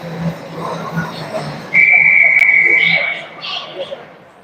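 A referee's whistle at an ice hockey game gives one long, steady shrill blast of about a second and a half over crowd and rink noise in an arena.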